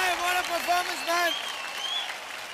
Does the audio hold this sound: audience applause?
yes